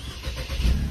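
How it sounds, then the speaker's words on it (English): A 2015 Mercedes C250 engine starting by push button, a short crank swelling into a low, close idle rumble that builds near the end. "But now if you want to start the car, foot on the brake."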